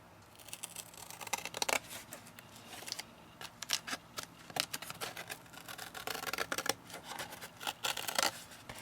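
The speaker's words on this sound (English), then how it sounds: "So I'm just going to run my scissors." Scissors snipping and scraping along a paper crease in uneven bursts, close up, with rustling between cuts.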